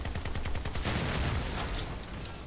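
Machine gun fire in the vehicle combat game Crossout: a rapid, loud burst of evenly spaced shots at the start, then heavier dense impacts and rumble that fade slightly, with no talking.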